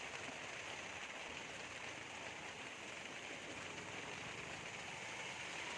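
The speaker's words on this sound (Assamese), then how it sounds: "ঠিক তেনেকুৱাতে বৰষুণ দিলে" Faint, steady hiss of rain falling outside a roadside shop, an even wash of drops with no break and no voices.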